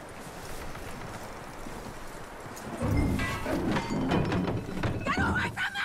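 Horse hooves in Red Dead Redemption 2 clop and thud on hard ground, a few steady beats rising louder partway through, with a voice speaking over them.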